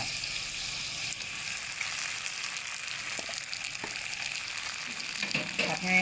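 Wide rice noodles frying for pad see ew with pork, a steady close hiss of sizzling oil with a few light utensil knocks against the pan near the end, no talk.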